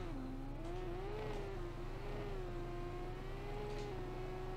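Racing motorcycle in GP Bikes on worn slick tyres in the rain, engine held at about a third throttle, a steady buzzing drone with slowly wavering pitch, barely accelerating, close and alone.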